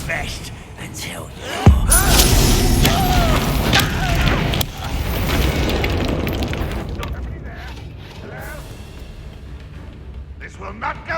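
A Bombarda blasting spell goes off in Hogwarts Legacy, a sudden loud boom at about two seconds that rolls into a long rumbling, crackling roar, with further impacts and voices over the din before it fades.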